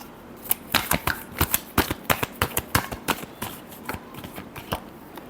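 Tarot cards are shuffled by hand, giving a close, crisp run of rapid riffling slaps and flicks in quick bursts for several seconds.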